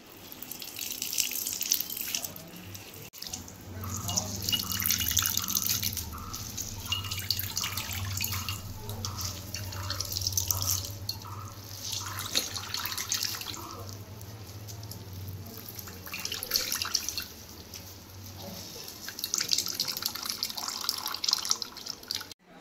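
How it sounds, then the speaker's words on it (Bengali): Water runs and drips as grated raw green mango is squeezed by hand for a sweet pickle, a soft, close trickle with faint splashes that continues throughout at a low level. "অনেকটা চিপে চিপে জল ফেলতে হবে। এই দেখো জল কত বেরোচ্ছে।"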